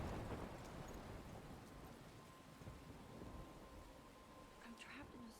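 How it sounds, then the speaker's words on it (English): Rain pours steadily during a thunderstorm in Life is Strange Remastered, a low rumble of thunder rolling underneath, moderately loud, with a voice speaking over it. "I'm trapped in a storm?"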